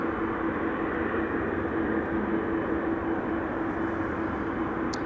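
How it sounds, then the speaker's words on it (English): KLM Boeing 787-10 Dreamliner arriving at Amsterdam Schiphol, heard as a steady, distant jet roar that holds level and continuous throughout. "That is KLM flight 758, a 787-10 Dreamliner arriving from Panama City."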